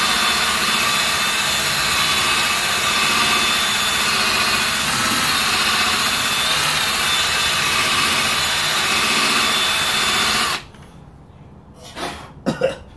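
A polishing pad spins against a car headlight with Meguiar's heavy duty polishing compound, giving a loud, steady, high-pitched machine whine for about ten seconds. It stops abruptly, leaving a quiet room broken by a cough or two.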